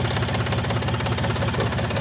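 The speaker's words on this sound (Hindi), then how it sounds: "जोन डियर कितना अच्छा ट्रैक्टर है बिल्कुल सिलो पे ही काम कर रहा है" A John Deere 5045 D, a 45 hp four-wheel-drive tractor working at silage, runs close by with a steady low diesel idle and an even knocking pulse, alone with no talk.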